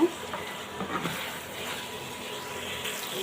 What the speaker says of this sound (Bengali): এখন আমি কিছুক্ষণ কষিয়ে নেব